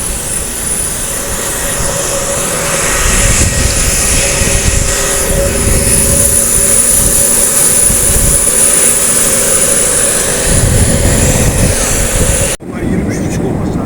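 A loud, steady jet engine roar with a high whine on top, continuous and close, cutting off abruptly near the end.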